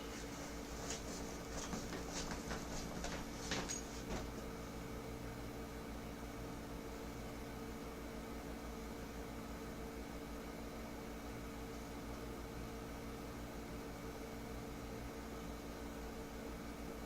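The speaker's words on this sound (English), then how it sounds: "I'll microwave all the food for this challenge separately" A microwave oven heating curly fries hums steadily for the whole stretch, a constant droning whir with a few faint clicks near the start and no talking.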